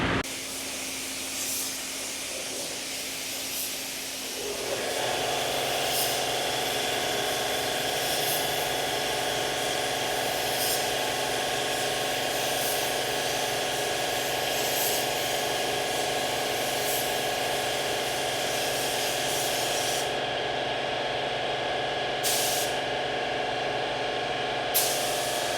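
A spray gun lays down satin 2-to-1 high-solids clear coat on car panels in a paint booth. After a quieter opening it becomes a loud, steady airy hiss that holds for about twenty seconds with no voices.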